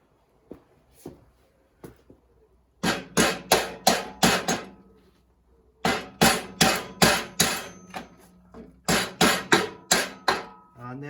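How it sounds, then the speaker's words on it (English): A big lump hammer strikes a stuck part on a 1959 Reliant Regal MkV during restoration, with two light taps followed by three close, loud bursts of rapid, evenly spaced heavy knocks. "I think it's just needing the big lump hammer."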